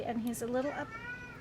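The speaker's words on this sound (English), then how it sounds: "Oh, sorry, that's my cat." An elderly cat meows in a drawn-out, wavering call, close and fairly loud, while a person talks softly.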